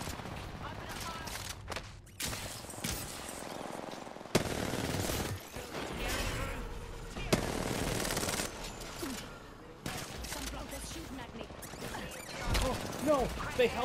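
Bursts of rapid gunfire from a Nessie gun in a video game, sounding in several separate loud volleys with pauses between them, and voices talking in the gaps.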